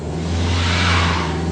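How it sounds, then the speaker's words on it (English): A front-wheel drive Jaguar X-Type labors on an icy hill, its engine droning steadily at constant revs with a rushing whoosh of spinning tires, close and loud. "No matter what I tried, the front-wheel drive X-Type wasn't going up."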